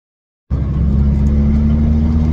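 A 2JZ engine in a BMW E30 suddenly roars to life and holds a loud, deep, steady rumbling exhaust note, close by and with no talking.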